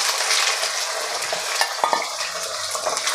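Washed pavta beans go into a hot tempering with curry leaves and sauté in a pan, a loud crackling sizzle broken by a few sharp stirring clatters.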